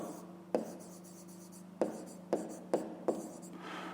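A pen scratches out a math solution on paper, with several crisp taps and short strokes spaced unevenly over a low, steady hum.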